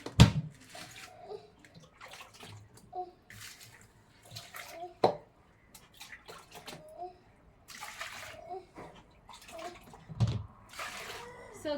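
Water is poured and sloshed into a pot used for cooking ugali, ahead of washing it in an African village, with intermittent splashes and trickles while people talk nearby.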